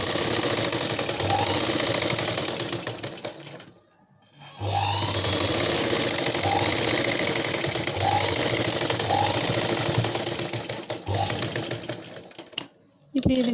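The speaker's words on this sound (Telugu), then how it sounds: "ఇప్పుడు ఈ విధంగా కింద సర్దుకుంటూ మనం పైనుంచి స్టిచ్చింగ్ చేసుకోవాలి" A sewing machine stitching a blouse, running close and loud in long steady whirring bursts with one short pause partway through, while someone talks over it.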